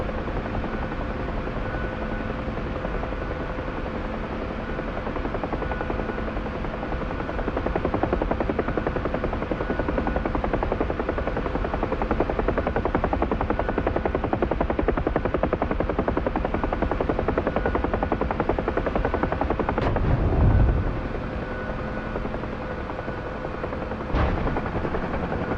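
A Huey helicopter in a combat flight simulator game, its steady rotor thump and turbine whine droning loudly and continuously, with a couple of brief sharp knocks near the end.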